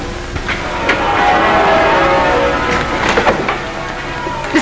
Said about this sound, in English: Listen to our wedding bells.